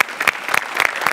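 Loud, close audience applause for a comedy skit on a TV stage show, a dense burst of clapping that stays strong throughout with no voices over it.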